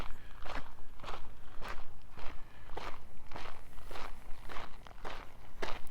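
Footsteps crunch steadily on a gravel park path during an outdoor walk near community gardens, about ten regular close steps over a low background hiss.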